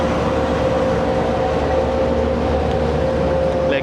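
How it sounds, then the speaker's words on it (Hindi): The Fareed Express train departs Kasur Junction: a loud, continuous rail rumble with a steady droning tone runs unbroken throughout, close and constant. "चलें अब ये ट्रेन को रवाना करते हैं कसूर जंक्शन से"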